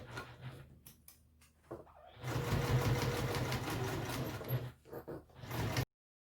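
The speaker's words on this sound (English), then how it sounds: "now we will sew our piece on at the required stitch seam allowance." A sewing machine stitching a seam on a Boronia Bowler hat piece, with a few short starts and then a sustained close, rapid whirring run that eases in bursts before stopping, with no talking.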